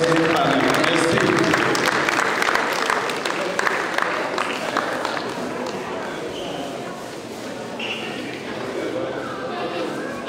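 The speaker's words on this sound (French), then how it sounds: "je vous demanderai d'applaudir nos marraines et parrains" A room of guests at a baptism gives sustained applause for the godmothers and godfathers, a dense, even wash of clapping that fades slightly toward the end, with voices mixed in.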